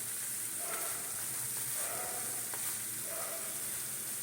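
Lachha paratha frying in oil in a pan, a continuous soft sizzle with a steady hiss and faint stirring movements, close and unbroken, with no talking.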